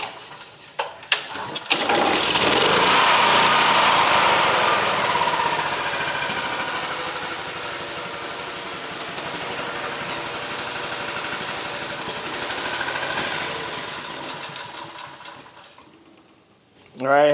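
Small engine fitted with an aftermarket carburetor runs loud and steady for about twelve seconds, then sags, sputters and dies out, with a few clanks before it starts.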